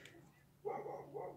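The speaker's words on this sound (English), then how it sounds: "There goes my dog." A pet dog indoors gives a couple of short, muffled barks a little way off, heard alone in a quiet room during a Magic: The Gathering pack opening.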